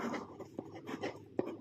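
Marker or chalk writing on a classroom board while numbers for a maths relation are written out: soft scratchy strokes and a few sharp taps, close and quiet, with no speech.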